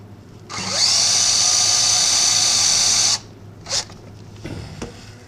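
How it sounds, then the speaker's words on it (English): A drill cuts a small dimple into a South Bend 13-inch lathe spindle part, a loud steady high whine that starts abruptly, runs about two and a half seconds and stops, followed by a few faint clicks and handling sounds. "There's no dimple on this one, so I'm going to drill a little dimple in it."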